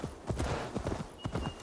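A horse's hooves clip-clop in the video game Assassin's Creed Valhalla, in a steady run of close, crisp hoof strikes at a quick walking rhythm, with no talk over them.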